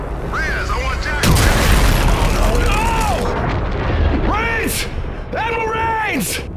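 Weapons fire and heavy explosions in an Xbox One military shooter game, booming blasts layered with sweeping whistling projectile sounds and a loud burst near the start, under urgent game voices.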